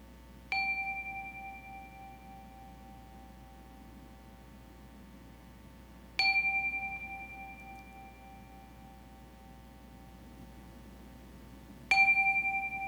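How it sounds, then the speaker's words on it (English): A chime rung three times at a Sunday service, each strike a clear bright ding with a long fading ring, evenly spaced about six seconds apart over faint room hum. "let us settle our minds and calm our hearts with the ringing of our chime."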